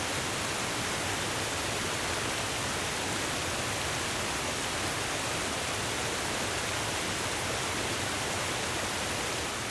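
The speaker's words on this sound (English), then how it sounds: "This waterfall looks insane." A waterfall in a video game gives a steady, dense, hissing roar of falling water, constant in level and unbroken, with no voices over it.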